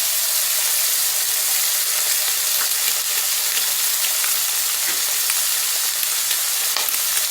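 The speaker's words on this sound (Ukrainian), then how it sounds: "Після цього будемо вбивати яйця." Eggs cracked into a hot frying pan, frying and sizzling in a steady, loud, close hiss that runs alone without a break.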